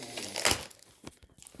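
An embroidery kit package being opened up close, with crinkly plastic crumpling and tearing in a dense burst, then scattered rustles and soft knocks as the contents are handled.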